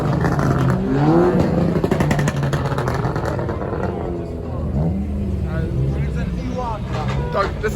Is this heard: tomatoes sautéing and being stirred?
no